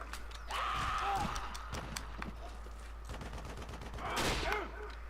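Rifle fire in the war game Shellshock 2, scattered sharp shots and clattering bursts over a low hum, with a couple of louder volleys, moderately close.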